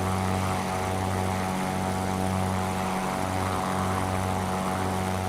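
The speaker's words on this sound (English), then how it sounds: "We're in the Beechcraft Barron Pro from BlackSquare." Twin piston engines of a Beechcraft Barron Pro light twin aircraft in a flight simulator, a steady droning hum with a low throbbing propeller tone, continuous and loud throughout with no talking.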